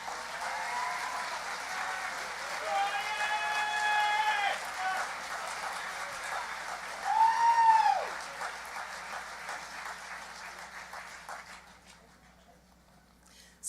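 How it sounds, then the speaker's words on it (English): Audience applause for faculty and staff at a high school graduation ceremony, a fairly faint, distant-sounding patter of clapping in a large space that gradually fades out, with some voices and cheers mixed in. "I'd like a round of applause to recognize those people too and their hard work"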